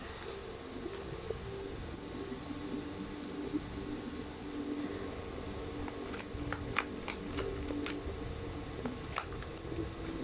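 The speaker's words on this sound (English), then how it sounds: "Okay, let's try to pull up more cards." Tarot cards shuffled and pulled from a deck, giving a steady papery rustle with a run of crisp snaps and flicks in the latter half, close and alone without talk.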